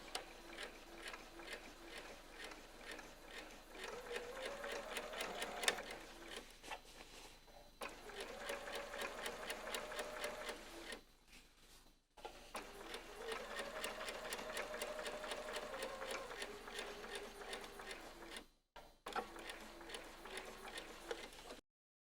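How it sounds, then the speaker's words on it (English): A domestic sewing machine stitches a jeans fly zip over pins in several steady runs of rapid mechanical chatter, separated by short pauses where the sewer stops. "Take your time, especially when sewing over pins."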